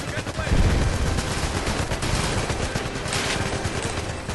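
Dense, continuous gunfire in the 007 Legends Goldfinger Fort Knox level, rapid automatic bursts blending into a steady loud barrage with a heavier blast near the start.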